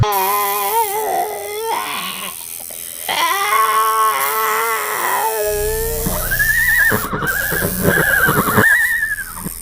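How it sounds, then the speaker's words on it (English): Horses neigh and whinny repeatedly, several loud drawn-out calls overlapping one another, close and clear with no talking. "Two horses."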